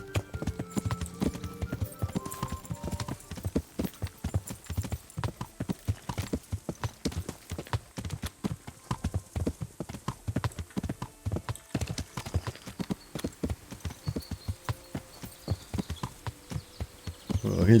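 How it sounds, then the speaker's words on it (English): Horses clip-clop in the medieval game Kingdom Come: Deliverance, with a dense, steady run of sharp hoof strikes on hard ground, close and prominent with no talking. "Well, here's some horses."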